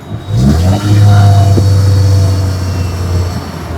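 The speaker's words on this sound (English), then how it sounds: "One of the highlights of the N line styling is definitely the dual tip exhaust." Hyundai Creta N Line dual-tip exhaust revving up and holding a steady, fairly loud low engine drone, close by with no other sounds.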